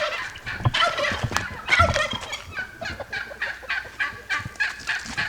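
A flock of chickens clucks and squawks close by in a busy, overlapping chorus of short calls.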